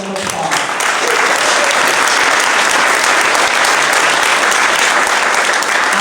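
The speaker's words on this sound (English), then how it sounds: "I think we all need a round of applause." An audience at a candidates forum breaks into loud, sustained applause, dense clapping that fills the room evenly from start to finish.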